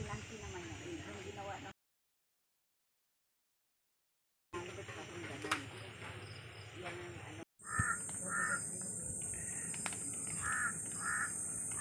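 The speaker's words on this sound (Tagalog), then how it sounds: "Ayun pala, nadya sa taas ang uwak." A crow caws several times from high in a tree at a distance, with quiet outdoor background, people talking softly, and a brief gap of silence early on.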